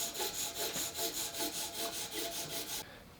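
A woodworking chisel is honed on oiled sandpaper with steady back-and-forth strokes, about a dozen even rasping passes close by, alone, stopping near the end.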